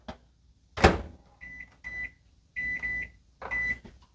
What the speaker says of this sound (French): On cuit à découvert pendant 15 minutes au micro-ondes.